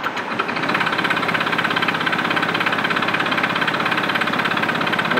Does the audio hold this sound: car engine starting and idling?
yes